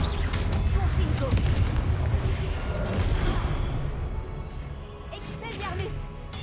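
A Confringo blasting spell explodes in the Hogwarts Legacy video game, a loud booming burst that rumbles and fades over several seconds while a voice talks over it.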